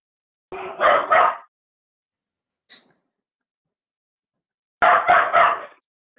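A puppy barks at a printer in two loud, close bursts of three or four rapid yaps each, separated by a few seconds of quiet with one faint short yelp between them.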